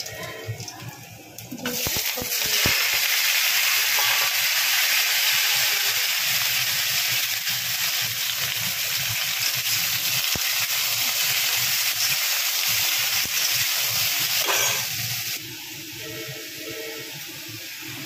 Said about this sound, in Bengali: প্রথমে আমি কড়াইয়ের মধ্যে এসে একটু তেল দিয়ে দিলাম অল্প করে, তার মধ্যে দিয়ে দেবো 5 ফোড়ন